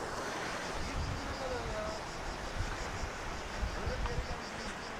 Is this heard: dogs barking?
no